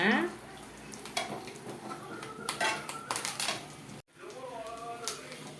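Garlic pickle ingredients fry in a pan with a soft, steady sizzle, broken by clinks of a metal utensil stirring against the pan while a person talks.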